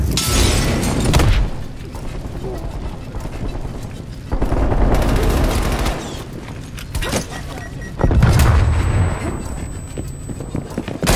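A stun grenade explodes in a Call of Duty Black Ops Cold War multiplayer match, booming among several loud bursts and gunfire in a busy, chaotic mix with voices speaking over it.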